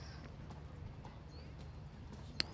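Hooves of a horse trotting up before the ground jury at the Blenheim Palace International Horse Trials, a faint, steady clip-clop beneath a low outdoor hum.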